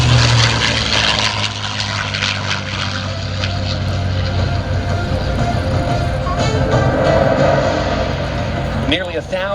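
A P-51C Mustang propeller fighter from the Tuskegee Airmen era runs at an air show, its engine drone steady and loud throughout, with a rising whine near the end.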